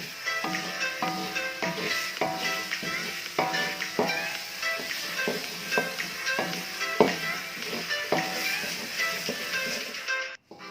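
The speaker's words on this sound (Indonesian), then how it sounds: "Kita aduk-aduk sampai nanti keluar minyaknya" Spice paste for ayam bacem frying in a pan over high heat, stirred in regular scraping strokes over a continuous crackling sizzle, alone and fairly close.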